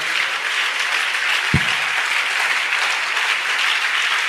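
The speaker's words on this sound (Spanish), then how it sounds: "¿Quiere darle un aplauso al Señor a esta hora?" A church congregation applauds during a sermon, producing loud, dense, continuous clapping that fills the space evenly, with one low thump partway through.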